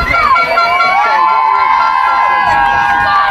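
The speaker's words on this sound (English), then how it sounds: "Crowds are starting to pile in through the doors now" A crowd arriving for a varsity women's football match between Cardiff Met and Bath Uni, a loud continuous babble of many voices with shouts and a sustained whistle-like tone over the top.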